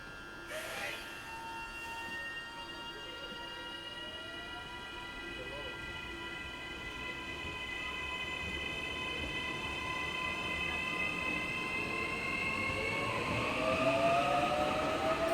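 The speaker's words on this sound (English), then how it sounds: "Here comes the train that will take us to Paerātā." AM class electric multiple unit AM428 pulling into a newly opened suburban station near Auckland, a rising hum and drawn-out squeal of wheels and brakes that grows louder and closer across the clip, with steady rail noise beneath.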